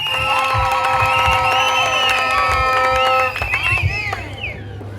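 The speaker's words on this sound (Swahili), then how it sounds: "Tuwapigie makofi wazee wa kanisa." A church congregation cheers and whoops for its elders at an evening meeting in Kasulu, with shouting voices and a sustained tone over the crowd, which thins out near the end.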